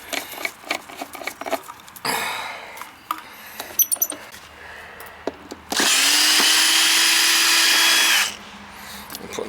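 A power driver runs new screws into a frost-free faucet, with two loud sustained whirring bursts, a short one early and a longer one later, between quieter clicks and handling knocks.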